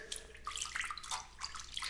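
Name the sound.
water splashing sound effect, cat bathing in horse trough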